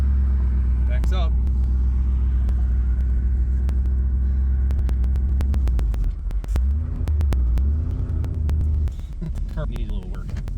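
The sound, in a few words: 1977 Pontiac Bonneville car backing up in reverse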